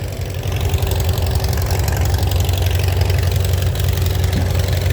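Engine idling inside a barn, a steady low rumble with a faint knocking pulse that holds even and loud throughout, with no voices.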